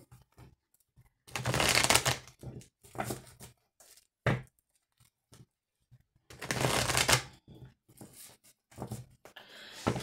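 Oracle cards being shuffled by hand in a few riffling bursts, two long and several short, close and fairly loud with quiet gaps between and no talk.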